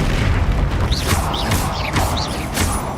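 Bombarda blasting spell in Hogwarts Legacy, a run of four or five dull booming bursts with whooshing swells in between, loud and dense over the game's background rumble.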